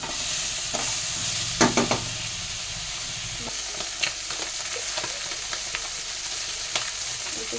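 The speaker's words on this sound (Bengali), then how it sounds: "একটু জিরে ফোড়ন দিলাম," Cumin seeds tempering in hot oil in a pan while cooking fish-head curry, a steady close sizzle with a few sharp clanks of a spoon against the pan, no talk.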